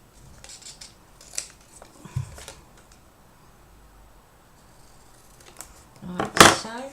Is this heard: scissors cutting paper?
yes